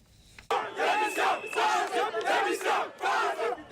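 A massive protest crowd in central Lomé, Togo, chants and shouts together in loud rhythmic surges, the roar rising and falling in repeated waves.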